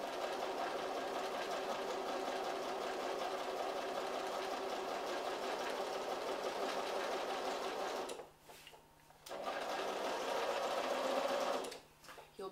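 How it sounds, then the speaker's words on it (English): A sewing machine runs long gathering stitches at a fast, steady whir, with two brief pauses before it starts up again. No voices are heard. "You'll be going a bit faster with the big stitches, so you have to really hold on tight."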